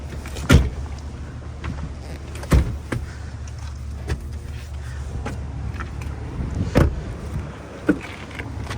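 In a 2022 Cadillac Escalade ESV Sport Platinum, a rear seat folds down under power, giving a low, quiet motor hum with a few soft clunks and taps from the mechanism.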